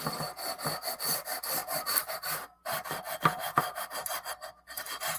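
Guitar frets are leveled with a StewMac fret leveler fitted with finer-grit abrasive, making rhythmic back-and-forth sanding strokes close up. A brief pause breaks the strokes partway through, then the steady rasping resumes.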